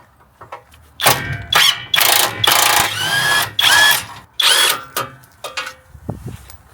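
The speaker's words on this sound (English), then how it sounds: "ONEVAN impact driver, 1/2-inch impact driver" A ONEVAN 1/2-inch impact driver works on old, penetrating-oil-soaked car bolts on a driveway, firing in several loud, close bursts of whirring hammering with short pauses between, alone without talk.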